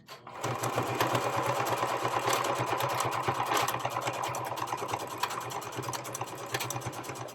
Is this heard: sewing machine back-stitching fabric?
yes